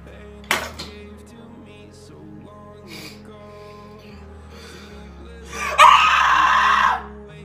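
Girls on an outdoor trip with friends scream in a high pitch to scare off wild animals such as foxes: first a sharp brief shriek, then a loud sustained scream of about a second near the end, over soft background music.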